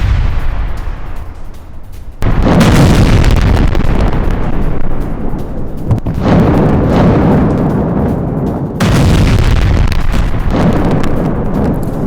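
Artillery attack near the Lebanon border, with heavy explosions bursting in loud waves of deep rumbling blasts, several distinct strikes following one another over a sustained booming roar, no talk.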